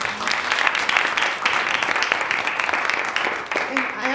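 An audience claps for the panel at an MIT alumnae career event, a sustained round of applause close and fairly loud, with a voice briefly heard near the end.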